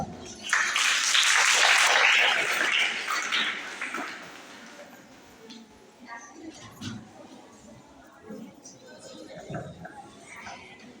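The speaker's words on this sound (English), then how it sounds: "Please give her a big round of applause." At a school Makar Sankranti celebration, the audience gives a short burst of loud applause that lasts about three seconds. It dies away into room noise, and voices talk afterward.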